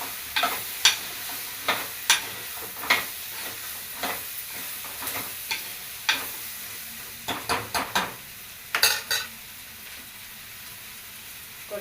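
Curry leaves dropped into a hot oiled pan crackle and sizzle up close, with repeated sharp popping bursts and stirring scrapes over a constant frying hiss, no voices.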